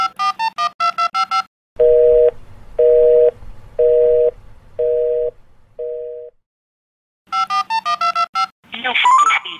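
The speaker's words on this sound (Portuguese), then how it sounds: "Não foi possível completar a sua chamada. Por favor, verifique o número discado." A failed phone call on a TIM line in Brazil: quick bursts of touch-tone dialing, then a series of evenly spaced, loud network beeps fading to a shorter one, followed by more dialing tones and a brief voice.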